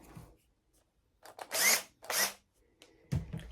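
Power drill backing screws out of closet shelves, two short whirring bursts close by separated by pauses, with faint handling noises around them.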